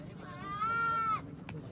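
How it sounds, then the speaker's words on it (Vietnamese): A large male goat at a mountain livestock market in northwestern Vietnam lets out one drawn-out, wavering bleat, close and loud, against a background of market chatter. "3 con dê đực to nhất chợ"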